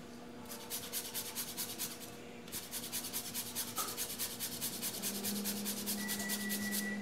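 Fresh ginger grated on a rasp: quick rhythmic scraping strokes, close and fairly quiet, repeating in a steady back-and-forth pattern with a short pause, no talking.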